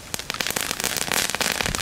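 Ribbon firecrackers from the Action discount store crackle in a rapid, dense string of sharp pops, loud and close, with no voices.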